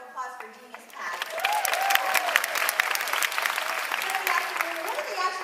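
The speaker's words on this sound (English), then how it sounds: "Let's give a big round of applause for Genius pads." Audience at a training event breaks into applause after a quiet start, a dense burst of clapping that holds steady while voices cheer and talk over it.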